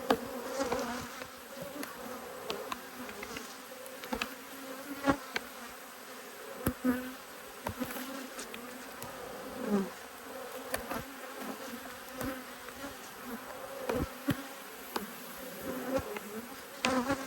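A steady, fairly faint hum of many honeybees fills an open hive during a frame inspection, with occasional sharp clicks and brief closer buzzes from passing bees.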